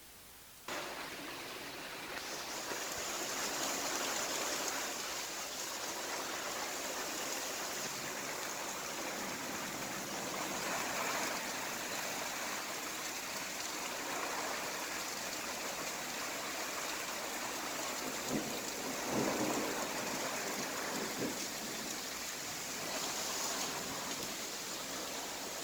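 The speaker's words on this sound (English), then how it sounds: "No thunder. I can only hear rain." Steady rain falls during a lightning storm with no thunder, a constant even wash of hiss that carries on for the whole span without voices.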